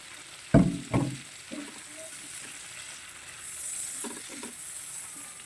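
About a quarter kilo of cleaned, deveined large shrimp going into a hot pan: two loud knocks as they drop in, then a steady soft sizzle of frying that rises slightly near the end, with no voices.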